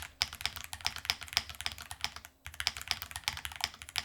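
Fast typing on a high-profile RO75 mechanical keyboard, a close, crisp stream of clacky keystrokes with a brief pause near the middle, then the rapid rhythm resumes; no talking.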